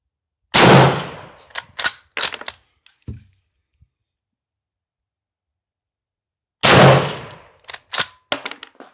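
Two loud, close rifle shots from an M1916 Spanish Mauser chambered in 7.62x51 NATO, each followed by bolt-action clicks and metallic handling noises, with a long quiet gap between the shots.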